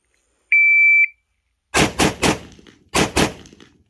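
A single steady electronic shot-timer beep, then five sharp, loud .308 rifle shots at a 5-yard range, fired fast in two clusters of three and two, with short echo tails.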